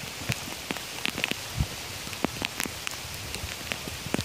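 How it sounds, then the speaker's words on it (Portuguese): Heavy rain patters down steadily with scattered louder drops hitting nearby surfaces, a constant wet hiss underneath. "E a chuva tá caindo com força"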